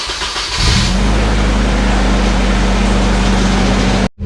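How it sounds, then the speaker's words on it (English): Nissan 240sx engine cranking briefly and catching, then settling into a loud, steady, close idle rumble that runs to the end before cutting off abruptly. "let's start it and see how much flies out."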